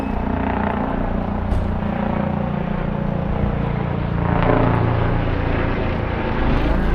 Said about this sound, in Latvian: Helikopters lido.